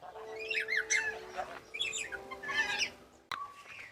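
A red lory, a parrot of New Guinea, Australia and the Pacific islands, gives a run of shrill, squawky calls in quick bursts, close and fairly clear, with a brief sharp click near the end.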